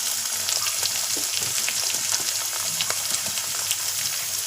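Onion and tomato puree fry in a pan for a kommuchanagalu curry, a dense, even sizzle with faint bubbling crackles throughout, close by and alone.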